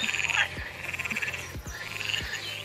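Golden poison dart frogs from the Colombian rainforest call in a rapid, continuous buzzing trill, close and steady, with a few low thumps underneath.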